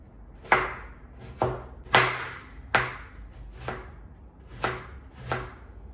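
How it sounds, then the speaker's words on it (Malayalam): Vegetables being chopped into small pieces with a knife on a board, seven sharp, evenly spaced knocks about one second apart, close and clear with no talking. "ഞാൻ ചെറുതായിട്ട് അരിയാട്ടോ"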